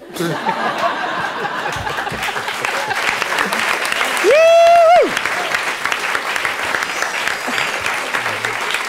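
Steady applause from a crowd fills the whole stretch, with scattered chuckles and a brief whistle-like tone rising above the clapping midway.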